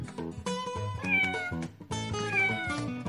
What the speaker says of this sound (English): Meow, says Kitten.